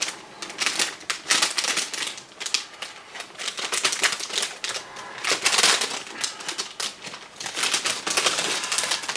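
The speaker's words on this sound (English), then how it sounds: "again in a nice resealable bag which we'll open" Clear parts for a 1/32 ICM Cobra model kit rustle and crinkle in a resealable plastic bag as it is handled and opened, a close series of uneven crackly bursts without talk.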